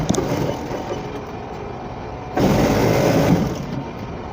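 A sewing machine stitches a garment seam, a steady fast whirring run that grows louder and denser partway through, close and alone with no talk.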